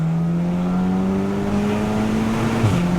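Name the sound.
turbocharged car accelerating in third gear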